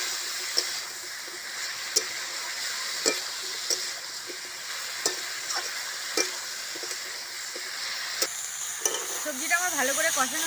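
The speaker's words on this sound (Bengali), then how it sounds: "সবজিটাকে ভালো করে কষে নেব।" Banana stalk and potato, seasoned with salt and turmeric, sauté in a pan under a soft steady sizzle, with sharp spatula clacks against the pan about once a second and a louder bubbling, rustling stretch near the end.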